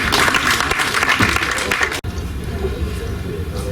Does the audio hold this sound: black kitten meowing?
no